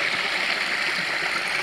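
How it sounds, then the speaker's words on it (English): Burbage Brook flows through Padley Gorge in a steady, close rushing wash of water, continuous and fairly loud with no talking over it. "Burbage brook water."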